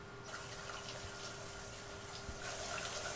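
Shower water running steadily in a cartoon bathroom scene, a continuous broadband hiss that swells louder near the end, with no talking over it.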